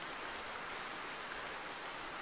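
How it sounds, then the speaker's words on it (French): Steady, even hiss of rain falling, a dense wash of fine drops with no pauses, fairly soft and continuous throughout. "la pluie c'est bien chiant"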